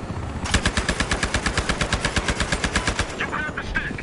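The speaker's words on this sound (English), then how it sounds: "Oh no, they're shooting at me." A sustained automatic weapon volley in a video game, steady rapid shots for several seconds, loud and near, with the firing tailing off into scattered cracks at the end and no talking.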